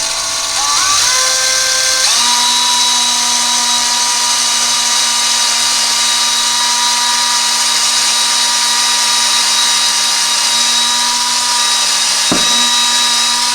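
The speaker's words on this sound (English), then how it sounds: "we're going to drill a small little pilot hole right through here" A power drill whines steadily while boring a small pilot hole during a bathroom vanity and sink installation, its motor tone dropping slightly as it bites, running close and loud for about twelve seconds before a brief stop.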